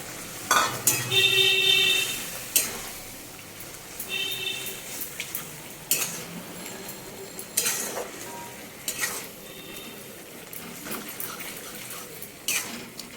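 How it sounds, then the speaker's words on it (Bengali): Washed mutton mince with a little cumin powder fries in a pan, stirred with a spoon in several separate bouts of clattering scrapes over a low, steady sizzle, with brief quieter gaps between strokes. "ধুয়ে রাখা মটন কিমাটা এর মধ্যে দিয়ে দিচ্ছি।"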